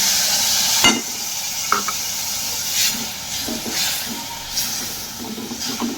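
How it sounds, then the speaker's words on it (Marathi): Spice masala for a dhaba-style cashew curry cooks in a pan after a cup of boiled water goes in, giving a steady close hiss and bubbling with a few sharp clinks of stirring, no voices. "यामध्ये उकळून घेतलेलं एक कप पाणी टाकून हे मसाले शिजवून घेऊ"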